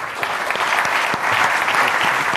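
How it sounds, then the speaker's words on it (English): Dense, sustained audience applause at a medical conference talk, a continuous wash of many hands clapping at steady loudness for the whole stretch with no speech over it. "But if we can give them a big round of applause for..."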